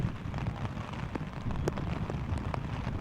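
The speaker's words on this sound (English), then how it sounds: "Rain still coming down here at Clinton High School." Rain falling steadily at an outdoor high school girls' soccer championship match, a soft continuous patter with occasional sharper drops, fairly quiet and even, no talk.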